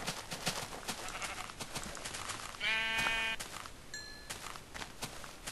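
A sheep in the video game Minecraft lets out a single bleat midway, with soft footstep-like clicks and faint game noise around it.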